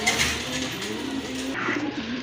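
Bombay pigeons at a pigeon market cooing in soft, low repeated calls, close by, over a steady murmur of background noise.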